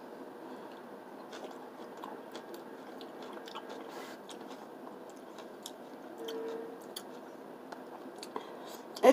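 Close crunching and chewing of fresh cut cucumber slices dipped in homemade ranch dip, soft steady bites and mastication at low volume with no talking.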